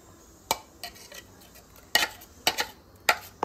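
A spoon mixes chutney with water in a pot set over ice pieces, giving a few sharp, spaced metallic clinks up close with quiet gaps between them and no talking.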